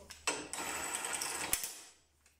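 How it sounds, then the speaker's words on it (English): Smaller DeWalt impact wrench loosening a bolt, a short, sharp, whirring burst of rapid hammering lasting under two seconds before winding down, close and fairly loud. "First, the smaller gun. No problem to loosen the bolt."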